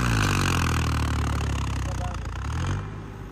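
A tractor engine straining hard under load in a tug against a bulldozer: a loud, deep, steady labouring drone close by that sags and eases near the end.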